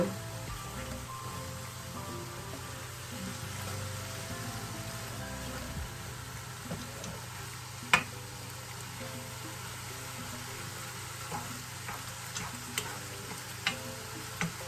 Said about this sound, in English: I'm just going to leave that there until the sizzle gets a little bit higher